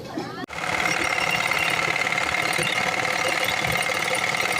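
Sewing machine running steadily in a small tailor's room in Ayodhya where clothes are stitched, a continuous close mechanical whir that starts abruptly after a brief pause and holds at an even level.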